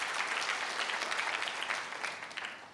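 Congregation applauding during a morning church prayer service, a dense steady wash of many hands clapping that fades slightly toward the end, heard alone without voices.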